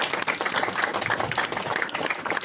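Audience applause in a college presentation hall, a dense burst of many hands clapping at moderate volume, steady for a couple of seconds with no talk.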